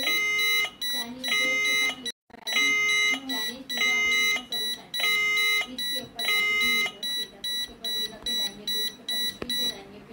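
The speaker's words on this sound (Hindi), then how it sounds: "ये इसके ऊपर अलार्म आ गया है" A smoke alarm on an INIM addressable fire suppression panel beeps in rapid repeating pulses, loud and continuous, while a person talks underneath.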